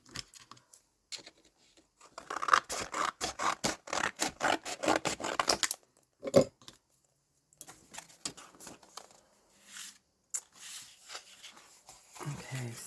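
Scissors snip through paper being trimmed for an altered file folder, sounding as a quick run of close, sharp clipping cuts, then a pause and more scattered snips and rustling.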